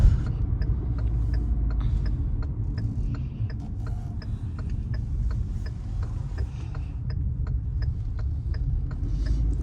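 A Kia Sonet HTK driving slowly through a U-turn, a low steady engine and road hum heard from inside the cabin, with the indicator ticking in a regular rhythm throughout.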